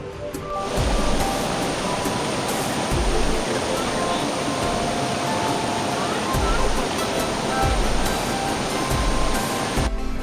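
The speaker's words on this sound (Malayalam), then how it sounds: "നാച്ചുറൽ വാട്ടർഫാൾസ് ആണിത്." A steady, roaring rush of falling water fills the scene at Thirubali Waterfalls, a natural bathing spot in Kerala, constant and fairly loud, like a waterfall heard from close by.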